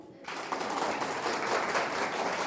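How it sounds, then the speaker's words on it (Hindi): An audience at a spoken talk in Asansol breaks into clapping after a brief quiet start, and the dense, even applause holds steady to the end. "ताली तो बजाओ।"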